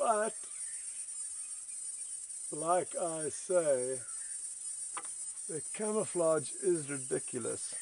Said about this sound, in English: Now this form of audio that we can hear is called stridulation